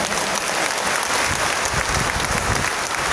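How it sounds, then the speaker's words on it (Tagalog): Loud, sustained applause from a Catholic church congregation at a ceremony renewing extraordinary ministers of Holy Communion, a thick, even roar of many hands with no speech over it. "Ang hina naman ng palakpak nyo,"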